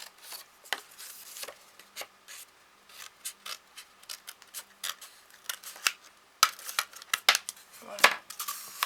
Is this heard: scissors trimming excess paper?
yes